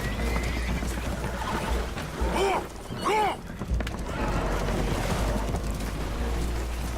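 Two horse whinnies from the game Red Dead Redemption 2 rise sharply over a loud, rushing background of water and commotion as spooked horses are on a boat taking on water.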